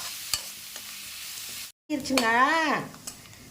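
Onions sizzle in a pan with scraping stirring sounds, then a brief silence followed by a rising, wavering tonal sound over the frying.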